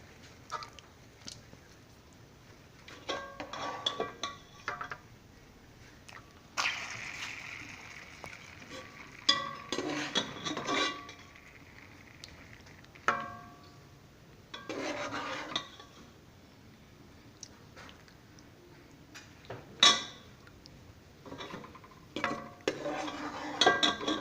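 Plates, pots and spoons clinking and scraping while beef aloo gosht curry is dished up in a home kitchen, scattered sharp clinks and clatters at irregular intervals, close and moderately quiet.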